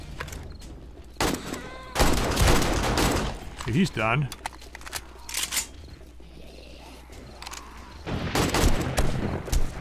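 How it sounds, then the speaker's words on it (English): In 7 Days to Die with the Darkness Falls mod, turrets fire in rapid, dense bursts of close gunfire. Several bursts come in succession over the span, someone speaks briefly in between, and a whistling whoop passes through the middle. "Those turrets fire really fast."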